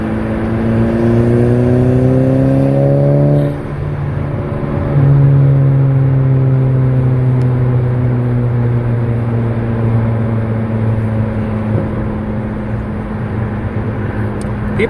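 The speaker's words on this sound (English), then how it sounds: "It's an awesome exhaust. And all it is a 3-inch downpipe merged with a genuine sport performance exhaust" A car with a 3-inch downpipe merged into a sport performance exhaust drones steadily while driving, its revs rising and easing in a low, continuous rumble heard from inside the cabin.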